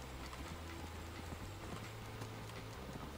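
Horse hooves galloping in the video game Red Dead Redemption, a quick steady clip-clop beat under a constant wash of wind and background noise, fairly faint.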